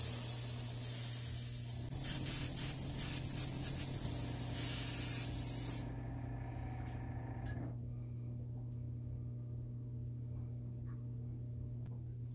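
Spray paint applied in a steady close hiss as a white coat goes onto the bottom of a homemade fishing popper lure, running several seconds before cutting off, leaving a quiet low hum.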